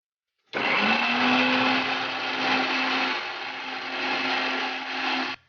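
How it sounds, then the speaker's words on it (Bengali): A kitchen blender grinds onion, ginger and garlic into paste. It starts abruptly with a loud, steady whirring hum and runs unbroken for about five seconds before cutting off. "সবার আগে আমি পেঁয়াজ, আদা, রসুনটা ভালো করে পেস্ট করে নেব।"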